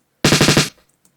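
A doubled-up snare roll in a beat: five rapid, loud, punchy hits packed into half a second, then a short decaying tail and silence.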